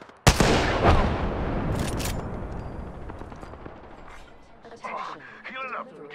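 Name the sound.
gunfire in a video game shootout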